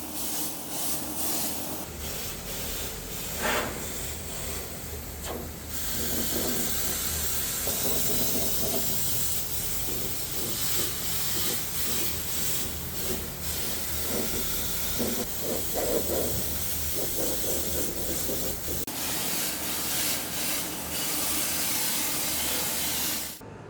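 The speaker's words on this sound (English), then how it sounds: "let's enjoy just a little footage of the technician" A spray gun applies rubberized undercoating to the underbody of a 2007 Toyota FJ Cruiser, producing a loud continuous hiss in long bursts with brief easing between them and no talking.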